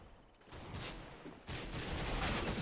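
Bursts of automatic gunfire from CS:GO, a dense rapid crackle that swells after a brief lull, quiet and somewhat muffled in the game mix.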